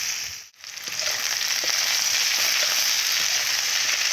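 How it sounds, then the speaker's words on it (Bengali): Vegetables with salt and plenty of turmeric frying in a pan, a dense, steady hiss of sizzling that dips briefly near the start and then holds loud and continuous, with no voices. "এইভাবে ভাজতে থাকবো কিছুক্ষণের জন্য।"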